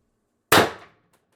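A single sharp report from a BP 50/50 air gun firing a steel ball bearing, a loud crack out of silence that decays quickly, followed by a faint small click.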